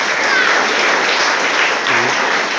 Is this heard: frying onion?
no